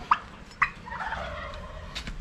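Large caged turkeys gobble nearby, with two sharp calls early on followed by a rolling, rattling gobble over quiet background noise.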